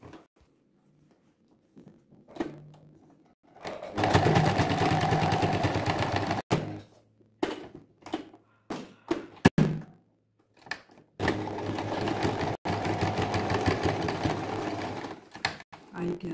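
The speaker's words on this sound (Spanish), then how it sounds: "presentamos el cierre y vamos a coser de aquí hasta aquí" Domestic sewing machine stitching a zipper onto fabric, running in two sustained bursts of rapid mechanical chatter, with short pauses, clicks and handling noises between them.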